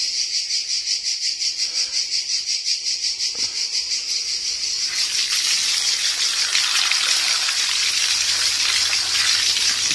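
Water gushes from a leaking pipe in hot weather, a loud, steady rushing hiss that swells and takes over halfway through, after a pulsing, insect-like buzz at the start.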